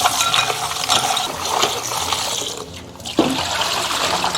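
Small elephant-trunk clams being washed clean under a running tap, with a steady broadband gush of water and a few faint clinks of shells, close and continuous, fading briefly before the flow resumes.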